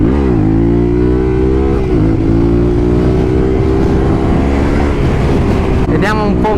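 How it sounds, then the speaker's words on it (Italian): A Yamaha Tenere 700 motorcycle accelerates on a dirt track, its engine loud and close, the pitch rising and holding as it pulls through the gears, with a brief dip and a further rev near the end. "Adesso un paio di accelerate di là nello sterrato li vado a fare, se Alessandro me lo concede."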